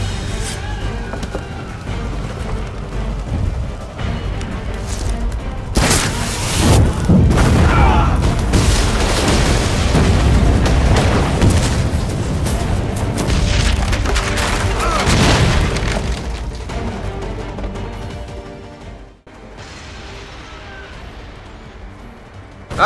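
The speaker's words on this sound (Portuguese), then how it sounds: "o navio explode e o jogo bota na nossa mão correr" A ship blows up during a naval battle at Chesapeake in the video game Assassin's Creed III, with loud, heavy booming and a sustained crackling roar of debris that swells, rumbles on, then drops away near the end.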